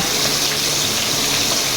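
Tap water runs in a steady, full gush into a home kitchen sink while rice-washing water is set aside for cooking sinigang, a close, continuous hiss with no talking.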